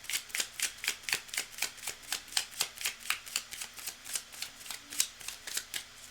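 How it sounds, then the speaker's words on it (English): A deck of tarot cards is shuffled by hand in a rapid, steady series of close, crisp riffling flicks, roughly four per second, with no talk over it. "Cards are well shuffled."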